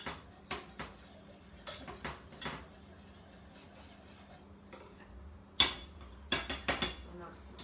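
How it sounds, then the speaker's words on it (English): A whisk clinks and scrapes against a bowl while mixing a fruit gummy mixture, with irregular metallic taps and knocks, some sharper strikes near the end, in a quiet kitchen. "it's kind of just breaking that apart, whisking it, getting it well incorporated into this mixture"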